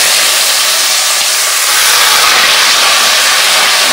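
Chopped potatoes with bay leaf and dried red chili fry in hot oil, giving a loud, steady, broadband hiss and sizzle that holds evenly throughout with no talking.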